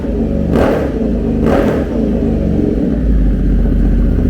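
A motorcycle with an aftermarket exhaust revs hard twice in quick bursts, a deep throaty roar rising and falling, then settles into a loud, rumbling idle.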